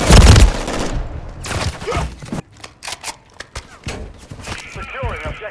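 Gunfire in the shooter game Call of Duty: Modern Warfare III, a loud opening burst followed by scattered sharp shots and clatter, with game voices talking over the action.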